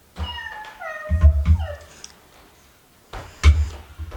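A child imitates a cat with a string of drawn-out meows, rising and sliding in pitch, then a short pause and one more sharp meow, near and fairly loud.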